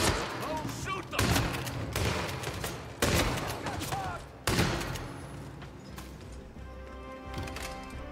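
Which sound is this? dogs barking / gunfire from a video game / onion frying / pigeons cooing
gunfire from a video game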